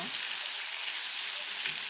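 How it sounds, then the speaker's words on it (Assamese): Meat coated in salt, turmeric and spices sizzles in hot oil as it is stir-fried, a steady bright hiss throughout with light crackle, close and alone. "মাংসখিনি চব দি দিছে ইয়াতে খালি এতিয়া লৰাই লৰাই ভাজি থাকিব"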